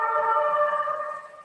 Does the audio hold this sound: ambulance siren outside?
yes